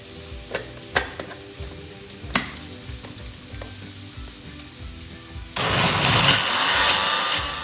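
After a few light clicks and knocks, a blender abruptly whirs into a loud, dense grinding roar for the final two seconds as it blends kasuri methi into butter chicken sauce ingredients.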